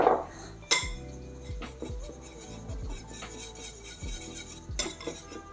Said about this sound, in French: je vais mélanger ma levure chimique à ma farine